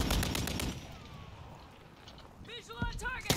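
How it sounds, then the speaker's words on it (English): Incoming gunfire in a first-person shooter game, with a few sharp shots cracking at the start, a quieter lull, then more bursts returning near the end, mixed with game effects and close to the listener. "Incoming fire"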